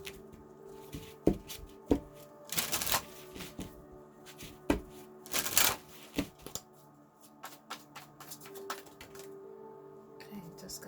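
Tarot cards are shuffled in two brisk riffling bursts with scattered taps and handling noises between them, close and fairly quiet, as a voice talks faintly at times.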